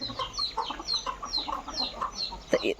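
Chickens clucking steadily on a free-range farm, a flock of young birds roaming outdoors, with repeated short calls overlapping in an irregular rhythm at close range and a low background hum.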